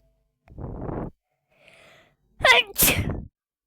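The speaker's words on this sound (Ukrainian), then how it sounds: "Чихнув трохи." A single person sneezes: a short breathy intake, a faint pause, then a sharp explosive burst with a trailing exhale, close and loud, with no one talking.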